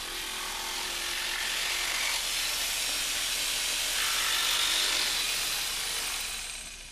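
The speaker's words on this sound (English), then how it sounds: "Cut along these lines with the jigsaw" A steady, hissing buzz of a jigsaw cutting through wood, running continuously for several seconds before easing off.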